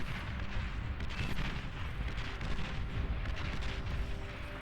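Dense, continuous rumble of artillery bombardment in the Beyond All Reason strategy game, an 8v8 battle, with overlapping distant booms and crackling impacts blending into a steady roar.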